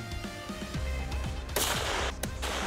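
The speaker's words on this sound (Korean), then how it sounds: "격발 명령이 떨어지고 곧바로 이루어지는 사격." Sharp rifle shots from a military sniper rifle during sniper training at a range, with two or three loud cracks ringing out amid background noise and no talking.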